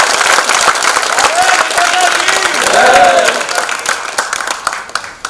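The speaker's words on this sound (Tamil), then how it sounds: "கைதட்டு கொடுங்க" An audience at a Tamil public speech breaks into sustained applause, a dense wash of clapping with a few cheers rising in the middle, loud and close, then thinning out toward the end.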